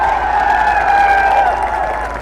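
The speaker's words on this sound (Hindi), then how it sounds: "और जोर से ताली बजाइए।" A big political rally crowd cheers and claps in a loud, continuous roar of voices and applause that tapers off slightly at the end.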